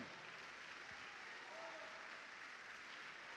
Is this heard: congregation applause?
yes